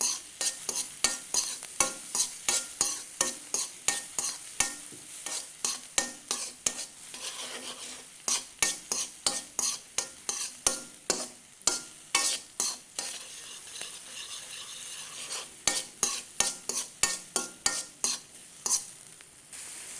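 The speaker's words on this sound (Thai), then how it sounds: "ผัดหอมใหญ่กระเทียม ให้มันให้กระให้หอมใหญ่ยุบจักหน่อยครับ" Onion and garlic stir-fried in a pan for spaghetti carbonara, with a steady sizzle under the quick regular scrape of a spatula stirring and tossing, close up, no voices.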